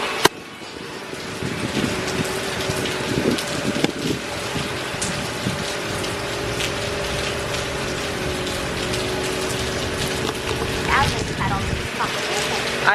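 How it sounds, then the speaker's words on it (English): Heavy storm rain pours outside in a dense, steady roar with gusty breeze, a continuous wash of water noise that stays loud and unbroken throughout. "it's crazy like rain out here."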